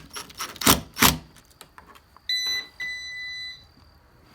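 An electronic keypad lock on a newly installed fiberglass front door, first a few clicks and presses, then a clear high two-tone electronic beep that repeats in short steady tones, close by in a quiet room.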